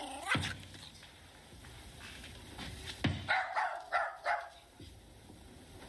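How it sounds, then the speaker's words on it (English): A dog named Spider barks at a locked room in an old house, from the 1989 film The Woman in Black, giving a few sharp barks and a quick run of yaps against a quiet, tense background. "Spider starts to bark at a random locked room in the house"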